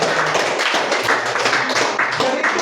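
A classroom audience applauds with dense, continuous clapping that carries evenly for a few seconds.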